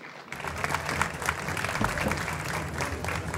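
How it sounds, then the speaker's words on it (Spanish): An audience applauds for the writer Óscar Collazos, a dense, steady wash of clapping that swells in after a brief silence and holds at an even level throughout. "Va para el gran Óscar Collazos un aplauso y un abrazo bien fuerte"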